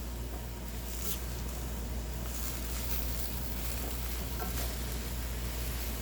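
Jalapeños sizzle steadily in a hot pan for hot sauce, with occasional stirring scrapes over a continuous, moderately loud frying hiss and no talking.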